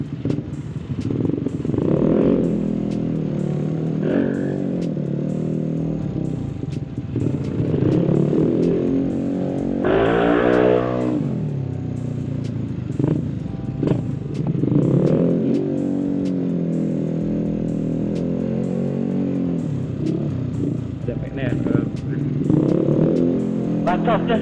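A Yamaha Mio scooter engine in an elite build starts and runs, its exhaust burbling and revving in repeated surges with a sharp rise near the middle, close and loud, with someone talking over it.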